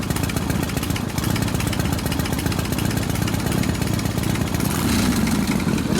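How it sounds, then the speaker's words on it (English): A Harley Shovelhead big-bore stroker engine idles close by with a loping, uneven rumble and a carburetor rattle on top, steady for several seconds with a slight lift in revs near the end. "I think that noise is the carburetor."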